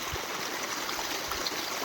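Irrigation water runs through PVC pipes fitted into a 1.5-inch iron line and feeds field beds, heard as a soft, steady trickling stream with no talk.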